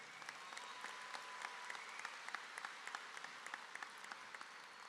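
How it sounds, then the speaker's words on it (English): Audience at a high school graduation ceremony claps steadily for about five seconds, a dense patter of many hands at a fairly distant, moderate level with no one speaking over it. "Please give them a round of applause."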